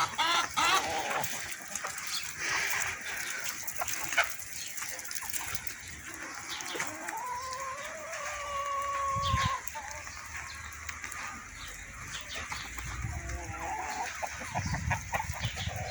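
Chickens cluck and murmur in the background over a long stretch on a rainy day, with a drawn-out call partway through from a feather-footed rooster, and some muffled voice and outdoor noise.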